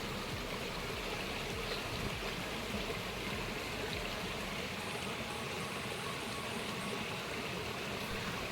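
A stream of clean water runs steadily in an outdoor spot where leafy greens are being washed, giving a constant, moderately faint rushing flow without any talking.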